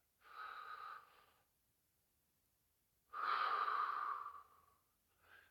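An older man gives two heavy exhalations after squats, the second louder and longer, with a short breath starting again at the end; airy and close, no talking.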